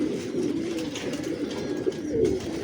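Pigeons at a breeding setup coo softly but steadily, several birds overlapping in a low rolling murmur with a couple of brief louder swells near the end.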